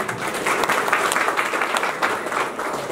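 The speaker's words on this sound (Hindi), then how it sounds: "एक बार जोरदार तालियों के साथ अभिनंदन करें" An audience at a felicitation ceremony breaks into steady, dense applause, many hands clapping together at close range for about three seconds with no speech over it.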